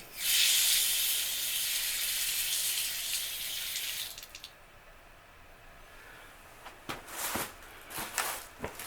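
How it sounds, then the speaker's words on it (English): Dirty water gushes from a water heater drain faucet with a loud, steady hiss that drops away around midway, followed by a few brief splashy spurts and trickles. "There's a little dirty water coming out"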